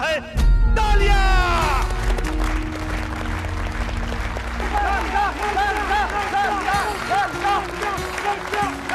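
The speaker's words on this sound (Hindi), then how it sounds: "तालियां!" Crowd applause and clapping for a village competition prize announced by the sarpanch, loud and sustained for several seconds, mixed with a brief shout and musical tones near the start.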